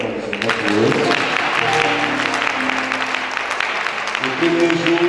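A church congregation applauds and cheers loudly in praise, with dense continuous clapping and voices, and some music underneath.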